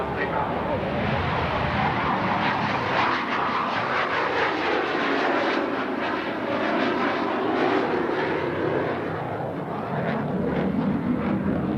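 Aircraft engine roaring through a takeoff roll at an airshow, a broad steady jet-like rush heard at a distance, with an announcer talking over it throughout.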